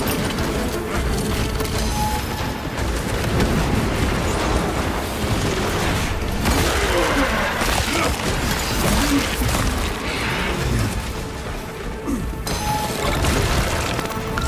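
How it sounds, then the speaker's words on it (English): Loud, continuous battle din from Warhammer 40K Space Marine 2 with crack grenade blasts as booming crashes mixed into dense gunfire and clatter, sustained without pause throughout. "Crack grenade hot."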